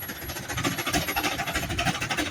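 An old stationary engine runs at a steam threshers reunion in western Minnesota, a steady rhythmic chugging with regular pulsing beats, close and fairly loud throughout with no voices.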